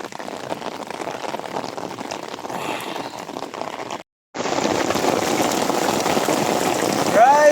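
Continuous heavy rain drumming on a surface, briefly cut out midway, then resuming with a short voice at the end.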